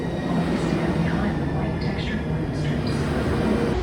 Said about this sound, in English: Like I said, this is a clean train, pretty fast